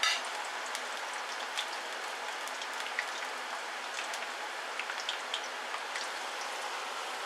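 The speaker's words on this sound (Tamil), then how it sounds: "அப்போதான் காய் நல்லா வேகும், கிறிஸ்பியாக வரும். நல்லா ஒரு 5 மினிட்ஸ் நல்லா ஃப்ரை ஆகட்டும்." Vegetables frying in oil over medium heat, a continuous crackling sizzle dotted with small pops and spatters, steady and moderately quiet with no talking.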